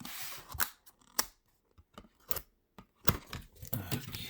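Scissors snip through packaging in several sharp, close cuts, separated by pauses and small rustles, fairly quiet overall and with nobody talking.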